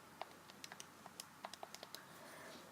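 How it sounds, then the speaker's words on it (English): Calculator keypad being typed on while working a law of sines problem, a close series of light, crisp key clicks in an irregular rhythm, some quick and clustered, with no talking. "When I type that into my calculator"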